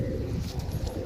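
Pigeons kept for sale coo in low, soft, overlapping murmurs that run steadily through the short moment, with faint higher chirps above and no talking.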